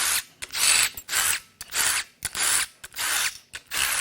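A hand ratchet loosens the upper oil pan bolts on a 2016 Toyota Prius engine that failed at 73,000 miles. It makes close, crisp bursts of rapid clicking in a steady back-and-forth rhythm, about seven strokes, with no talk.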